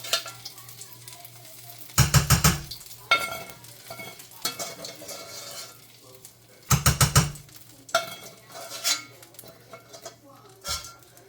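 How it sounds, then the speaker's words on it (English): Crispy bacon sizzles and crackles in a hot pan while a utensil stirs and scrapes in short bursts, with occasional clinks of metal. "I'm going to add this lovely crispy bacon right on top. It's still hot, you can hear it sizzle."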